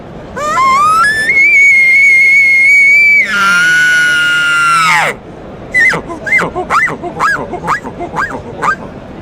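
A game call made for turkey calling imitates an elk whistle. The clip opens with a long rising, sustained whistle, then a bugling squeal, then a series of short, loud chirping whistles and yips close up.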